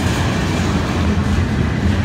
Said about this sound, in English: And here comes the blue FBC container car.